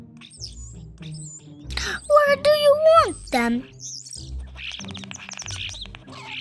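Baby chicks and birds peep and chirp in quick high calls, mixed with a voice and other talking in an animated read-aloud.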